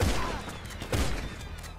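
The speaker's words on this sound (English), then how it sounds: "I'm getting shot without even fucking seeing them" Gunfire during a casino mission in Grand Theft Auto V Online, a dense loud volley of overlapping shots at the start and another burst about a second later.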